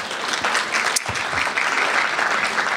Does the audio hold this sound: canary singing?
no